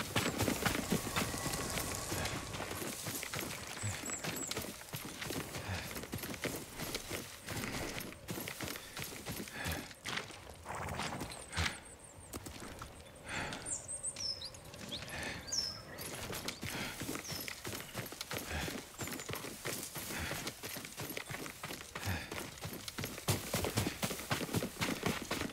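Horse hooves clip-clop steadily through most of the stretch in the Ghost of Tsushima video game, a continuous rhythmic trot over game ambience with a brief lull near the middle.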